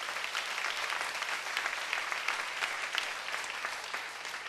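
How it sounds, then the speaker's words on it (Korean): A church congregation applauds in steady, dense clapping that fills the room continuously, moderately distant, with no voices over it. "박수로 하나님께 영광 드리겠습니다"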